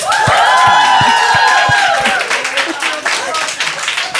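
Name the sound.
round of applause for women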